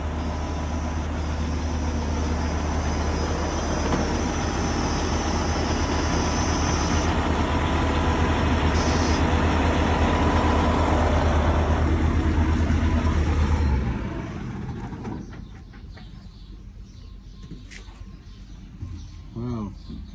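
Farm tractor reversing straight back, a loud, steady low engine drone with a constant hum that cuts out abruptly, leaving quieter mechanical clatter and faint background sounds.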